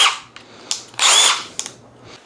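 A 12-volt cordless power drill whirs in short bursts, spinning up loudly and stopping several times in a row, close by, with no talking.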